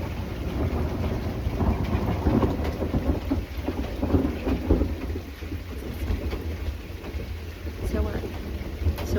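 A thunderstorm surrounds the listener with steady heavy rain and deep rolling thunder that swells and fades throughout, loud and close.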